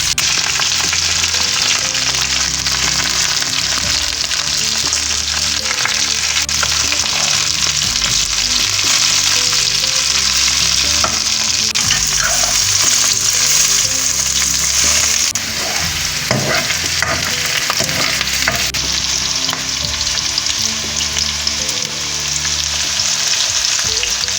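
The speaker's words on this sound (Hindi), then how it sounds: "अब मैं इसमें भिंडी ऐड कर लेती हूँ। इसको हम अच्छे से फ्राई कर लेंगे" Okra (bhindi) fries in oil on a high flame with a loud, dense sizzle that runs without a break. Utensil scrapes and knocks from stirring come through now and then, and no one talks.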